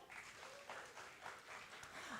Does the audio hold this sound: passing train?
no